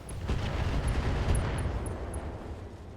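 An LRM missile firing in the RogueTech mod of the BattleTech video game: a deep, rumbling blast with a rushing launch whoosh, loud up front and then tapering off, with a few faint high interface tones over it.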